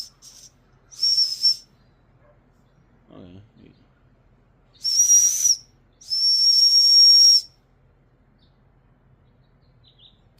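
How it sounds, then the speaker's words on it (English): Tiny orange safety whistle from a Maratac SAR-16 multi-tool, blown in four shrill bursts: a short one, then two more, the last held longest. One brief spoken word comes between them. "orange rape whistle."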